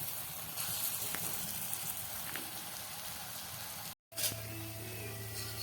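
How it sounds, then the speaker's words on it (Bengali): Pumpkin pakora fritters fry in hot oil with a steady, soft crackling hiss that runs continuously, broken only by a momentary gap partway through. "তেল গরম হয়ে গেছে, এবার আমি বড়াগুলো দেবো আস্তে আস্তে"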